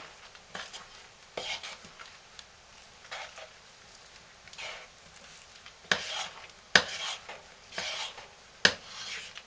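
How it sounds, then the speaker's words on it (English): Hot process goat milk lye soap being stirred in a pot near 170 degrees: a low steady hiss broken by repeated scraping and rubbing strokes that grow louder and more frequent, close up and without talk. "So I'm going to stir this one too."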